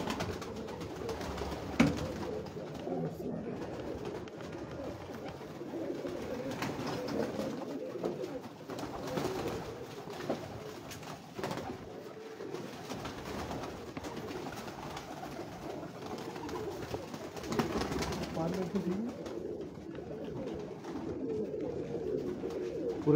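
Pigeons coo steadily and close by on a rooftop in Lahore, a continuous low, throaty murmur layered from several birds with occasional louder calls, no talking.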